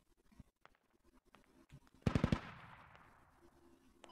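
Short burst of automatic machine gun fire in the military shooter Squad, four sharp loud reports in quick succession followed by a long decaying echo over quiet ambient background.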